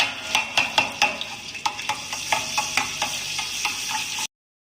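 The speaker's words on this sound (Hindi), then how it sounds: "ये देखिए हमारा लहसुन थोड़ा सा फ्राई हो गया है।" Garlic and ginger fry in oil in a pan, giving a steady sizzle with repeated clicking scrapes from stirring, close and moderately loud, ending abruptly.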